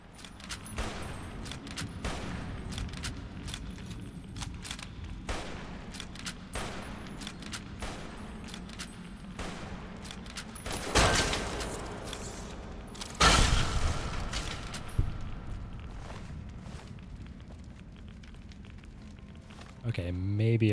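Gunfire in Fallout New Vegas, with repeated shots cracking out in a steady rhythm across the scene, a couple of heavier blasts standing out near the middle, all over a constant low rumble of background noise.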